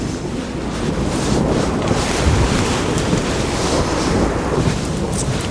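Steady, loud wind roaring by the sea, with the constant wash of surf beneath, buffeting the microphone throughout and no voices.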